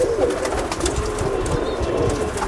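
Pigeons coo steadily in a loft, a continuous soft layered cooing from several birds close by with no talk over it.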